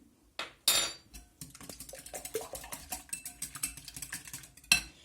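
Rapid clicking taps of a whisk beating three eggs in a bowl, a steady quick rhythm of light clinks, close by with no voices.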